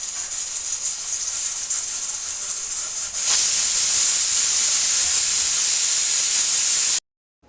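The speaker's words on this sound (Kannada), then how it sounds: "ಕೂಗ್ತಾ ಇದೆ. 2 ವಿಸಲ್ ಆದರೆ ಸಾಕು." A pressure cooker whistling while cooking tomato rasam, a loud continuous steam hiss that swells stronger partway through and then cuts off abruptly.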